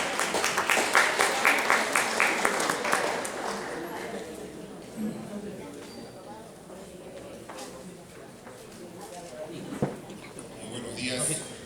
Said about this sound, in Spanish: Recibámonos con un fuerte aplauso, por favor